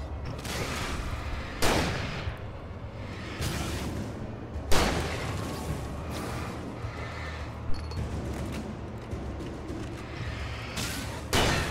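Double barrel shotgun blasts in the video game Alan Wake, several loud sharp booms spaced a few seconds apart over a steady background of game noise and action.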